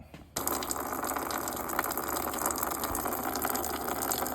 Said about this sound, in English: You don't want to drain the whole thing, just enough where you can take out that hose.